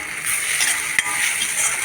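Spices such as coriander powder, salt, turmeric and chili powder frying in a pan, giving a steady close sizzle with faint stirring scrapes and one brief clink near the middle, no voices.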